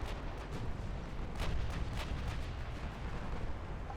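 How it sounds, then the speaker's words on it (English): Mortar-armed warships fire in the naval strategy game Ultimate Admiral Dreadnoughts, a dense continuous rumble of artillery booms layered over each other, steady and loud throughout. "these mortar class are really not very accurate, but I'm hoping they're going to do some serious damage"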